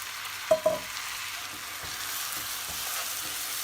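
Rice and orzo being sautéed in butter in a pot, a soft steady sizzle with two brief louder stirring scrapes near the start, close and continuous without any talk.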